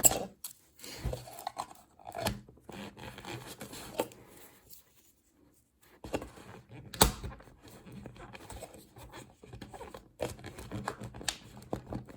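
Scissors snip at a craft hook to shorten it, giving a series of short, close cutting clicks with soft rustling and handling noise, and a brief quiet pause midway.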